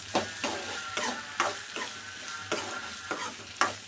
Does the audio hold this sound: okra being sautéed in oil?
yes